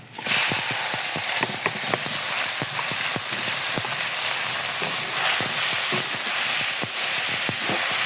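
Chopped banana flower tipped into hot oil with browned garlic crackles in a loud, dense sizzle, spattering throughout with frequent sharp pops and stirring scrapes, no voices.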